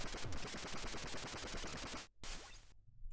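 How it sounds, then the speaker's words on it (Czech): Rapid machine gun fire in the NES game Hit Marmot, a loud continuous stream of evenly spaced 8-bit shots that cuts out abruptly, followed by a short descending burst and then silence. "A teďka Machine Gun."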